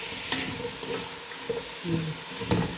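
Meat frying in a pan with shallots and garlic for lumpia filling, a steady soft sizzle with a few scraping stirs of the spatula, close by and with no talking.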